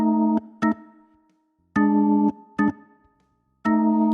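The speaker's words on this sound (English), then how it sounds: "So if we start playing it on the piano," Piano chords from a simplified three-chord 12-bar blues, struck in short stabs and held chords with silent gaps between them, a loose swung rhythm, clear and close.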